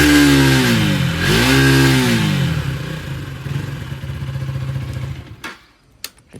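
A KTM Duke 250 with a modified loud exhaust revs hard close by, its rough vibrating roar rising and dipping through two sweeps before cutting off, leaving a few sharp clicks.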